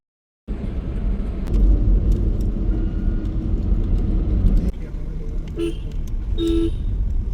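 A safari jeep drives through a tiger reserve on the first morning run, a loud continuous engine rumble and road noise close by, with a couple of brief horn-like toots near the end.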